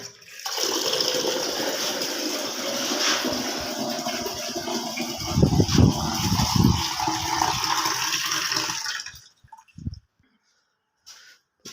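Water pours and gushes into a pigeons' water bowl, a continuous splashing fill with a louder burst partway through, then it stops abruptly, leaving near silence with a few faint drips.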